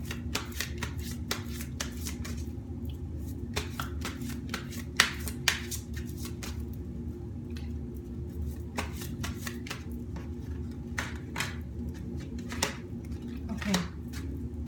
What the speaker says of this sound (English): I felt energy in my belly while I was shuffling the cards